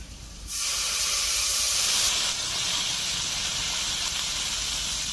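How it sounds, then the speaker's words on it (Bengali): Water is poured into a pan of hot curry made with fresh river boal fish and new potatoes, setting off a sudden loud, steady steam hiss and sizzle that carries on for several seconds with no talk over it. "এখন দিয়ে দেবো পরিমাণ মতো জল।"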